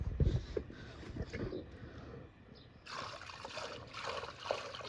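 Dirty, opaque water rinsed from four pond filter sponges of an APS PFC-500 pressure filter trickles and pours steadily, splashing louder near the start and becoming a brighter running flow later.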